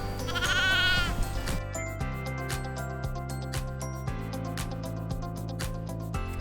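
Dorper sheep bleat loudly in a long wavering call at the start while grazing on cover crops, followed by a steady, repetitive rhythmic background pattern that carries on to the end.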